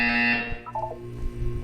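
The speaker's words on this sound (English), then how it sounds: "When you hear the buzzer, look down at the floor." A Portal 2 test-chamber buzzer sounds loudly and bright at the start, a sustained electronic tone that cuts off after about half a second, followed by a brief descending chime and low hum.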